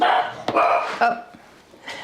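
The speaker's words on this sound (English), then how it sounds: "Sorry, that's my dog." A pet dog barks a few sharp times nearby in a home kitchen, loud bursts among clattering and a brief spoken word.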